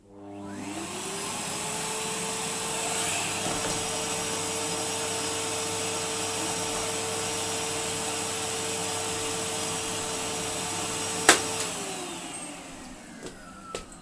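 A Numatic Henry HVR160 vacuum cleaner hums steadily for over ten seconds with a constant motor whine, then shuts off and spins down near the end.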